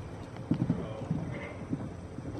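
A ridden horse's hooves clip-clop in a few irregular clusters of soft thuds at moderate distance, over a low background murmur.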